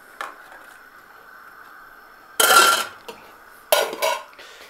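A metal lid clangs onto a cooking pot in two loud, brief rattling clatters, preceded by a light tap, in a quiet kitchen.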